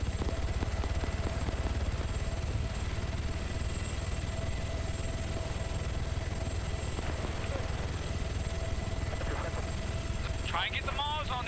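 Military helicopters in a video game drone with a steady rotor and engine hum throughout, a constant tone running underneath, and brief chatter near the end.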